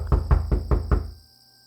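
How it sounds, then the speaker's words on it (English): Five firm knocks on a door in an even rhythm, close and loud, followed by silence. "There's someone at the door, kids."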